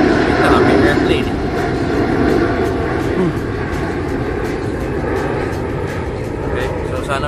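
Steady, loud aircraft engine roar fills the whole stretch as a constant broadband drone, with people talking over it.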